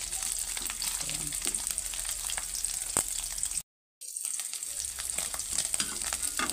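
Vegetables, string beans and eggplant for ginataang sitaw at talong, being sautéed and stirred in a pan: a steady, close sizzle and frying hiss with stirring scrapes, cut by a brief silent gap, with no talk.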